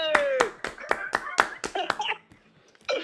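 A small group clapping, several sharp distinct claps in quick succession that thin out and stop, with a brief burst near the end. Laughter and voices mix in.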